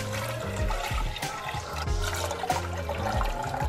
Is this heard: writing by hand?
no